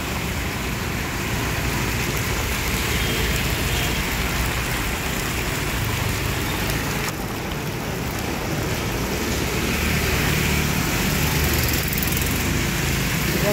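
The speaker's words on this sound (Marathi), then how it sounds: "तर असला पावसाला जोर आहे या" Heavy rain roars steadily and loudly, a dense wash of noise with no break.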